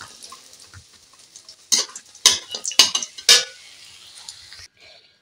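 Bori lentil dumplings frying in oil while being stirred, with a soft background sizzle broken by a handful of sharp metallic scrapes and clacks of a spatula against the pan, close and uneven.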